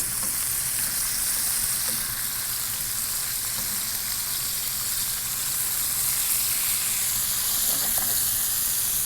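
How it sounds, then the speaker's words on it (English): Braciole steak rolls stuffed with breadcrumbs and cheese searing in a hot pan, an even, loud, continuous sizzle with a faint hiss and occasional soft pops throughout. "The searing is done"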